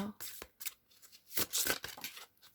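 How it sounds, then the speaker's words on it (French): A card drawn from a deck during a tarot reading, giving short papery swishes and flicks in a few separate bursts at close range, with no other sound filling the gaps. "On va juste aller prendre une carte, on peut la voir."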